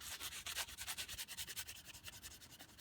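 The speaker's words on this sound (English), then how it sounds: "Just a light sanding with the block." Block sanding lightly over a level, a steady rhythmic rasp of repeated short strokes, close and fairly loud, with no talking.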